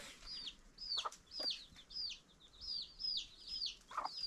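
Chickens cluck and chirp beside a rooster on a farm, a steady run of repeated short calls with a few sharper squawks, fairly close over a quiet outdoor background, no talking.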